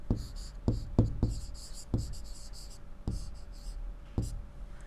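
A pen writing on paper gives quiet scratching strokes with several soft taps as it touches down, heard close with faint background hum and no spoken words.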